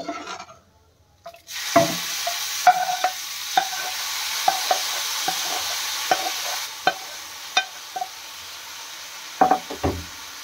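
A spoon stirs prawn pulao rice in a pan as reserved prawn gravy is mixed in, giving a constant sizzle under repeated sharp scraping knocks, close and fairly loud, after a brief quiet start.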